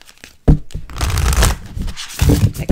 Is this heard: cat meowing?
no